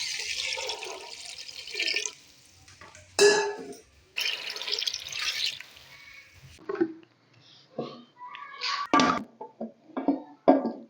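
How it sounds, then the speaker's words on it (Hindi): Water is poured into a pot holding chickpeas and salt in a home kitchen, coming in several short bursts of splashing with pauses and faint clinks between them. "इसके अंदर पानी डालूँगी।"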